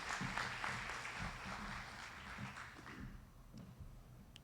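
An awards-ceremony audience applauds for a few seconds, a moderately loud clapping that tapers off toward the end.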